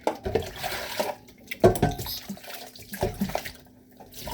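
Water runs from a tap in a home, a soft splashing flow with a few clunks and knocks around it, at moderate level and close by.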